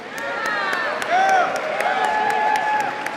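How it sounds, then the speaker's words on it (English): A crowd at a Ring Figure presentation ceremony claps and cheers, with sharp individual claps punctuating the sustained applause and a few voices whooping throughout. "Let's give her a round of applause."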